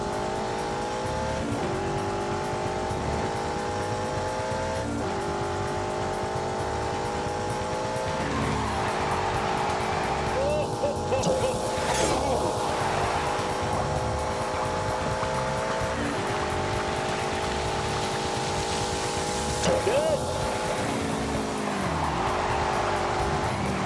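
A BMW 8 Series with four-wheel drive and four-wheel steering driving hard in a game, a steady loud engine drone shifting pitch through gear changes, with bursts of tire squeal on the corners.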